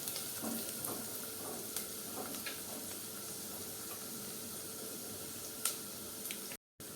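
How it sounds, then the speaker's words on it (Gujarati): Onions sautéing in a pan for a drumstick curry, a steady broadband sizzle throughout with a few soft stirring clicks, close and continuous, cutting out briefly near the end. "ડુંગળીને પણ આપણે સારી રીતે સંતળાવા દઈએ જેથી ડુંગળીનો કાચો સ્વાદ ના આવે"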